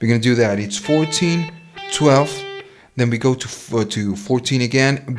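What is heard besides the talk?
No everyday noise stands out behind the speech.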